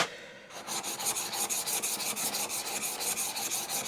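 A hand file rasps back and forth along the steel edge of a hand plane chip-breaker in steady, rhythmic strokes, close and even, with no talking.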